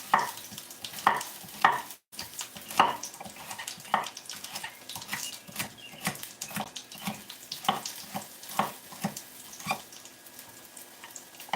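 Chopped carrot and pepper tossed into a hot pan for homemade Chinese takeout, a steady sizzling hiss broken by repeated clattering stirs and bumps, close and fairly loud with no talking.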